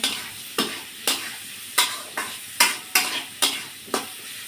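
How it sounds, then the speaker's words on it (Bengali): Papaya, potato and small shrimp curry with salt and turmeric fries in a pan, a steady sizzle broken by about eight sharp scraping strokes of a spoon, close and fairly loud, with no voices. "দিয়ে আমি বেশ একটু ভাজা ভাজা করে নেব"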